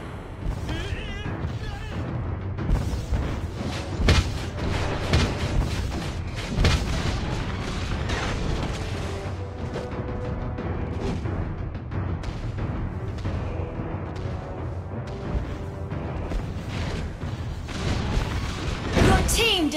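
Booming impacts and crashes from a turret being destroyed in the video game Mobile Legends, with repeated explosive hits and bursts throughout amid busy game effects and a voice announcement.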